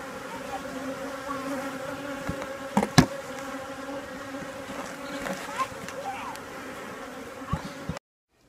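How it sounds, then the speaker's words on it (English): Thick, constant drone of many honey bees humming together inside a hive ten days after a package was installed, with a few knocks and clicks, loud and close, then it stops abruptly. "A look into the hive 10 days after a new package of bees was installed in the hive."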